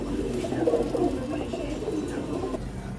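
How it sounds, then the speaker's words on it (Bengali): Racing pigeons of khaki and red-khaki colouring coo softly and repeatedly from close by, their low, rolling calls overlapping over a quiet background. "তো এখানে যেগুলো আছে সব আমার ভিটার কবুতর।"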